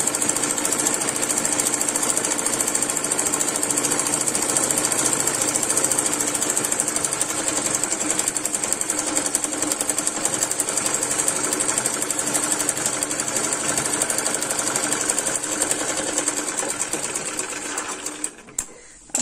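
A sewing machine runs steadily, stitching two pieces of cloth held evenly together, a loud continuous mechanical whir with no talk, cutting off just before the end.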